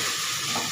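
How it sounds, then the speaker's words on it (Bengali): Chicken frying in oil and spices in a pot for a kacchi chicken pulao, a brief continuous loud sizzling hiss close up, with no other sound. "চিকেনটাকে একটু ভালো করে ভাজা মতো করে কষিয়ে নেব"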